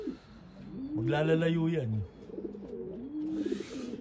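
Racing pigeons coo near a loft just after release, with one clear, loud warbling coo in the middle and softer bird sounds around it. Someone speaks briefly in the background.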